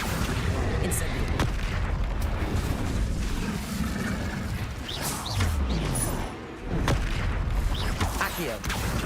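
Spell explosions in Hogwarts Legacy: a dense, continuous barrage of loud booms and blasts with crackling impacts and rumbling, dipping briefly before resuming at full intensity.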